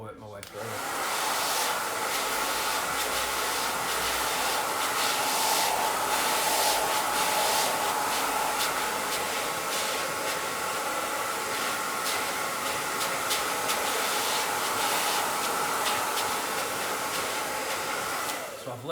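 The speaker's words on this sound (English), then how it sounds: "now I'm going to change the angle of my dryer to create that volume from the front" A hair dryer blows steadily while a man's hair is being blow-dried, a loud continuous airy roar running nearly the whole time with small shifts in pitch as the nozzle angle changes, no talking over it.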